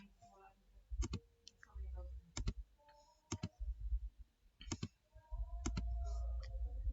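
Mouse clicks and bursts of keyboard typing while entering village fund balance data into an accounting application, sharp clicks recurring every second or so over a low hum, with faint talk in the background.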